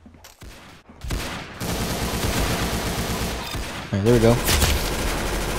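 Rapid gunfire from the Roblox shooter Arsenal crackles in dense, loud bursts after a quiet opening, with a short tonal game sound near the end and someone talking briefly over it.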